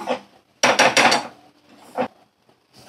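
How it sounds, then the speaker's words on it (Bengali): Food is stirred in a cooking pot with ghee and sugar added, a spoon or spatula scraping and knocking against the metal in short bursts of clatter and rubbing with brief pauses between strokes, close and fairly loud. "এখন ভালো করে নাড়াচাড়াটা করে নিই"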